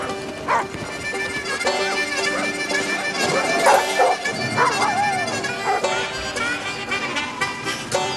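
Sled dogs barking and yipping in short, excited bursts with some whimpers, fairly close against a busy background, with a voice faintly present underneath.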